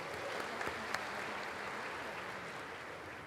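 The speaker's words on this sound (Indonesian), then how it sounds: "Beri tepuk tangan dulu untuk Unpam." Applause from an audience fills a university graduation ceremony, a faint, steady wash of many hands clapping throughout with a few sharper claps standing out early on.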